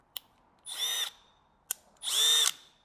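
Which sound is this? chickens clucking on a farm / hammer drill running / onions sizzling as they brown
hammer drill running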